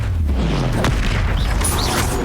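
A Confringo blast spell goes off in Hogwarts Legacy on PC, a loud booming burst with a low rumbling tail amid busy game noise and swishing effects.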